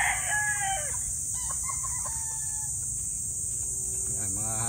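Local banded gamefowl, young roosters and hens, crow and cluck nearby in quick succession, with a loud steady hiss of background noise underneath.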